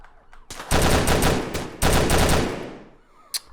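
Bursts of automatic gunfire from the video game Stick Em Up, two loud sustained volleys in close succession, fading out, with a brief sharp shot near the end.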